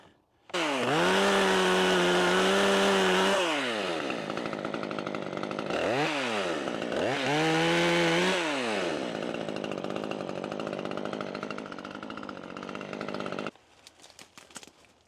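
A loud battery chainsaw roars close by, its motor rising and falling in pitch as it bites through tree wood, then cuts off abruptly.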